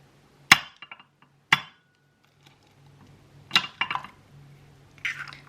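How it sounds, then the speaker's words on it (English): Two large eggs cracked one after another into a cup while making chocolate chip banana bread: sharp, loud shell taps near the start, then quieter clinks and a wet plop as the contents drop in, with no talking. "I'm going to crack these into a cup."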